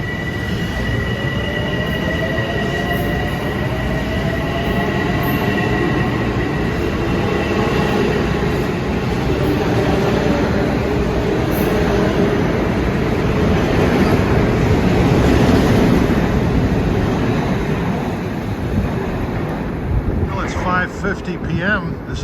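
A Metro-North train rumbles steadily past for a long stretch, a continuous loud roar of wheels on rails with high metallic squeals drifting in and out.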